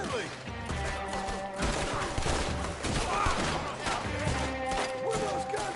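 Gunfire crackles through a Red Dead Redemption 2 shootout, with dense overlapping shots and loud booming bursts that run continuously over a game soundtrack.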